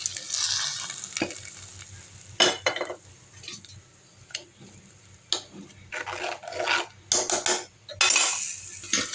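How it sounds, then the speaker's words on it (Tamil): Onions sautéing until brown in a clay pot for a lentil kadaiyal, with sharp, irregular bursts of a spoon stirring and scraping against the pot between quieter stretches of low sizzling. No one speaks. "வெங்காயம் வதங்கிடுச்சா பார்ப்போமா. நல்லா ப்ரௌனாக வதங்கினா நல்லாயிருக்கும் டேஸ்ட்டாக."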